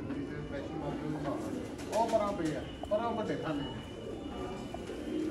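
A flock of pet pigeons coos steadily nearby, soft low rolling calls that carry throughout while someone talks over them.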